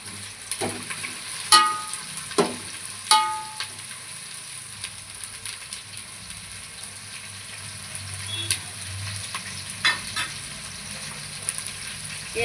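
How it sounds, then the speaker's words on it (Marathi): Thinly sliced onion and green chillies frying in a pan, with a steady soft sizzle and several sharp scrapes and clinks of stirring near the start, then quieter continuous frying. "याला कम से कम 2 मिनिटं तरी लागतील भाजायला छान।"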